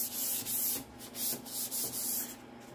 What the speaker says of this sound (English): I'm just using the Dixie Belle sanding sponge